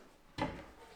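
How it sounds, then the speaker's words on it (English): A lift-up table in an empty fixer-upper house is raised and catches slightly, giving a single brief wooden knock and scrape in an otherwise quiet room. "the table that lifts up here"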